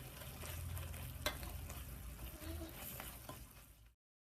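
Chicken liver fry with curry leaves and garam masala sizzles in a pan while being stirred, a steady faint frying hiss with small scraping knocks, then it cuts to silence.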